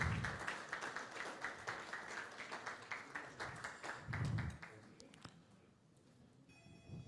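Audience applause at the CIPM 2025 CEO/CHRO/HRD Forum in Nigeria, a fairly quiet ripple of clapping that tapers off after a few seconds, leaving faint room noise and a brief electronic chime.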